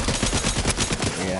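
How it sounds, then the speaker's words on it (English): Rapid automatic gunfire from the video game Fortnite rattles in a quick burst of closely spaced shots, loud and continuous for just over a second. "Just gonna shoot the dude."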